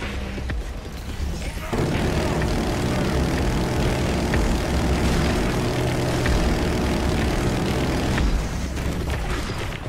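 Enemy drone from Killzone Shadow Fall on PS4 flies through heavy rain, a loud, steady droning hum that swells after the first two seconds and holds before easing near the end.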